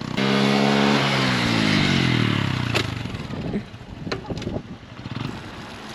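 A Honda Grom motorcycle revs hard during wheelie practice, its engine note rising and falling in a loud sweep before settling into rougher, uneven throttle blips with some clatter.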